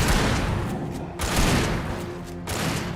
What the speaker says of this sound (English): Double shotguns.